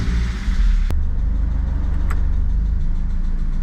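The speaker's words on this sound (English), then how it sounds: "So for now, I'm just going to turn the car on" A Mazda Eunos Roadster engine runs steadily just after starting, a loud, close, continuous low idle rumble with one sharp click near the start and no talking.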